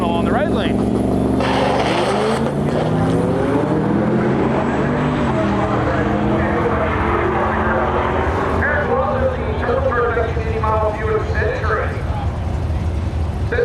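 At a drag strip, a Ford Fiesta on slicks and a wood-panel Buick wagon roar loudly and continuously, their engine note sweeping upward under crowd noise and talk.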